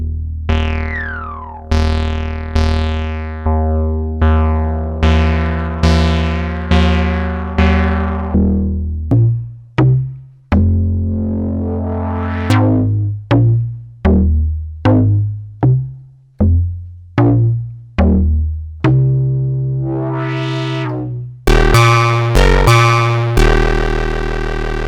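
Moog Subsequent 25 analogue synth playing a fat bass sequence, a loud run of plucky notes with sweeping filter envelopes that quicken in rhythm and end with bright resonant bursts, no talking.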